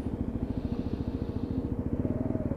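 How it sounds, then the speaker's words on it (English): A Lexmoto Venom 125cc motorcycle engine idling or ticking over with a steady, rapid low-pitched pulsing throb, close and moderately loud, with no voices. "So just pulling down through the gearbox, hard in on the front brake, absolutely perfect."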